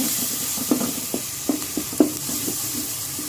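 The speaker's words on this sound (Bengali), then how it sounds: "একটু ভালো করে মশলাটা নাড়াচাড়া করে মিশিয়ে নেব" Masala of ground spices such as coriander powder being stirred in a pan without water, with a soft steady sizzle and a few sharp spoon scrapes and taps against the pan.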